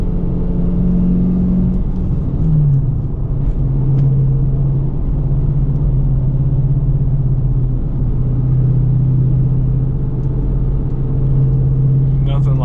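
A Dodge Challenger R/T with a six-speed manual gearbox drones steadily at close range while driving, its engine note dipping and settling as it moves up through the gears, with a voice speaking over it.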